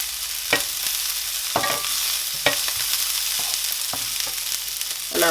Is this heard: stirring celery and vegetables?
yes